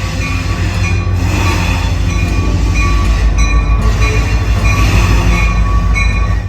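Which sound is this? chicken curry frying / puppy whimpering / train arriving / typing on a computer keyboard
train arriving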